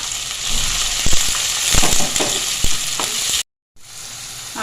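Chopped onions sizzle loudly in hot oil in a pan, a dense steady hiss broken by a few stirring clacks, then a brief gap before the frying picks up again.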